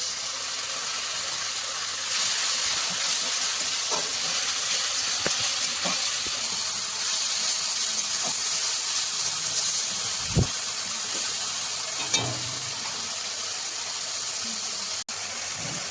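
Coriander and cumin powder masala sizzles in a hot pan with a splash of water, a steady loud hiss and crackle of frying, with occasional soft clinks of a spoon stirring.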